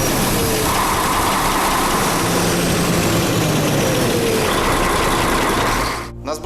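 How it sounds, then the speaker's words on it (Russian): A KAMAZ 5490 truck's diesel engine with a faulty valve lifter runs loud and steady, a heavy drone with faint ticking, until it cuts off abruptly near the end. "На сбросе газа появляется вот такой звучок неприятный, такой чик-чик-чик-чик-чик-чик, такое постукивание."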